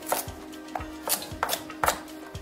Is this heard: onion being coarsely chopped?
yes